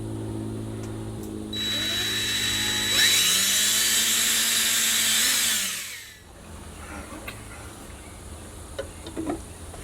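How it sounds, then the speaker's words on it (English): A power drill with a 3/16 bit bores anchor holes into a wall for a pool salt system install, whirring loud and steady for about four seconds before spinning down into quiet. "We're going to go ahead and drill those out. I'm using a 3/16 drill bit for our 1/4 inch anchors."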